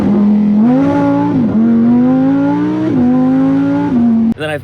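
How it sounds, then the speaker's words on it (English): A Lamborghini Huracán LP580-2 rear-wheel-drive with a V10 engine revs loudly and close up, its pitch rising and dropping in several surging pulls before a sharp blip at the end. "Right behind you have this mammoth V10 that screams."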